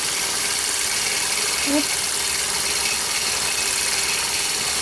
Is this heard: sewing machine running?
yes